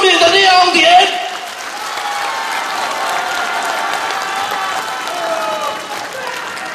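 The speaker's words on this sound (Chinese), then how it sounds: "你们热烈的掌声是对我最大的包容与鼓舞" Audience applause at a Korean Taekwondo troupe's breaking demonstration performance at a university hall, a sustained wash of clapping from a large crowd, loud at first then steady and slightly fading, with a voice speaking over it.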